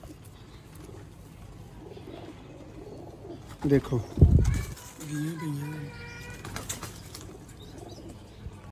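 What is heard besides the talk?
Sialkoti rooftop pigeons cooing and flapping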